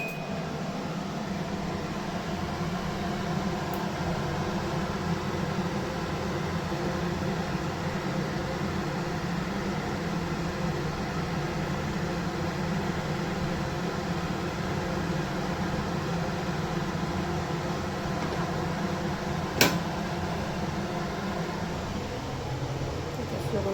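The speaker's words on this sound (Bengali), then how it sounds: "চিমনিটা আগে অন করে নেবো" A kitchen chimney exhaust hood fan runs steadily with a broad, even whooshing drone that stays constant throughout, with a brief faint click near the end.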